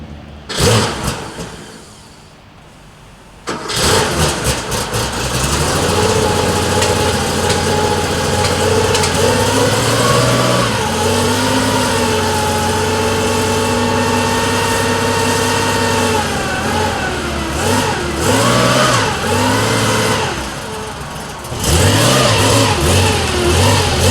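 A classic 1980s air-cooled Porsche engine starts, then idles loud and close with several rising and falling revs, running steadily throughout with no speech.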